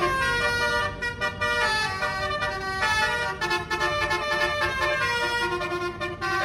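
A bus plays its tuneful telolet horn while pulling out of a parking lot, a loud, steady run of melodic honks that keeps changing pitch and repeats over roughly six seconds.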